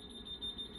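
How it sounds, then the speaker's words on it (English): Battery-powered alarm system beeping during a home powerwall battery setup, a rapid series of short, high, evenly spaced electronic beeps, faint and steady in a brief burst. "It's like his alarm system."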